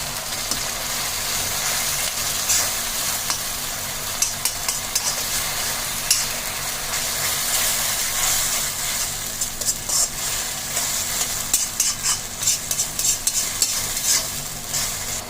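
Soft bubbling and light sizzling from a pan of sauce for vegetarian chilli chicken, steady with small irregular pops and occasional stirring scrapes, close by.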